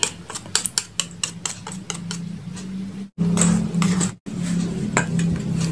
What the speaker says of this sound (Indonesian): Lalu kita aduk dulu. Kita bantu pakai spatula kali ya.